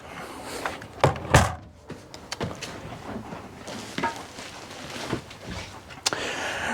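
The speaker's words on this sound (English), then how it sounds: "Right here we got our screen door with our oversized grab handle to pull yourself in." The screen door of a 2023 Grand Design Imagine XLS 17MKE travel trailer gives a couple of soft knocks and rattling thumps early on and another light tap near the end, fairly quiet over room noise.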